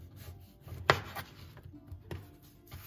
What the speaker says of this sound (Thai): หั่นยากมากค่ะเพราะมันแข็งค่ะมันเหนียว